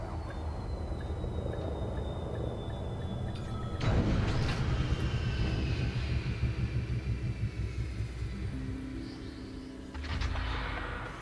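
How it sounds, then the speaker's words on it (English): Landing gear deploying on a spaceship in the Elite Dangerous space game, heard as a steady low rumble that swells into a louder mechanical roar and clunking partway through, then settles into a lighter hum with a tonal whine near the end. "Landing gear deployed."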